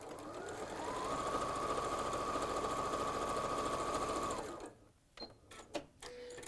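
A sewing machine chain-pieces quarter-inch seams joining patchwork into rows, running steadily and fast at close range for about four seconds before stopping, followed by a few clicks and handling knocks.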